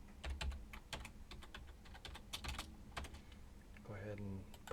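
Keys clatter on a computer keyboard as a password is entered, a few quick bursts of taps with short pauses, quiet and close, while a voice speaks briefly.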